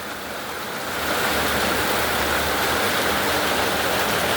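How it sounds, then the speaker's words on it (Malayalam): Steady, dense roar of heavy rain, loud and continuous, swelling slightly after the first second with no voices. "നല്ല മഴയാണ്."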